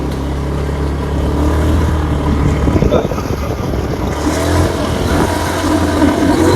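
A motorized tricycle engine drones steadily and loudly up close, a continuous rumbling hum with slight surges, under faint talk and road noise.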